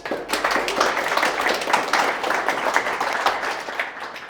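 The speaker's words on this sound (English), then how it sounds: "I usually get the round of applause at the end, but I'll take it at the beginning as well." Audience applause at an evening tech talk welcoming the second speaker onto the stage, a steady wash of many hands clapping that carries evenly through the whole stretch without pause.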